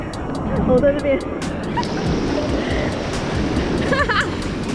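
Ocean waves surge and break at Nacpan Beach in El Nido, a constant loud wash of surf with wind buffeting the microphone, while people nearby shout and talk excitedly over the water.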